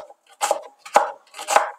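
An onion is finely chopped with a knife, three distinct, close cutting strokes landing about half a second apart in a quiet kitchen.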